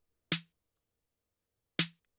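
Two dry, unprocessed snare drum hits sound alone, each a short sharp crack with a quick decay and about a second and a half of silence between them.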